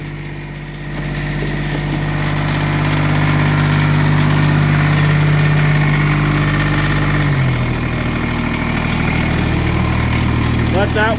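A Kubota G1800-S tractor idles after a cold start in freezing weather, a loud, close, steady engine hum that holds firm and then drops slightly in pitch partway through.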